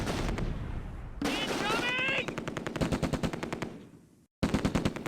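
Heavy machine gun fire rattles in long rapid bursts during a Close Combat battle at Nijmegen, sharp repeated reports with a short pause before firing resumes.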